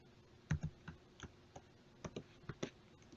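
Quiet, close clicks of a computer keyboard come in short bursts and single taps with uneven gaps, and no one talks.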